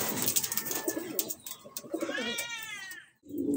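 A blue bar pigeon perched on a truck gives a soft, close cooing call, with rustling and other faint bird sounds around it.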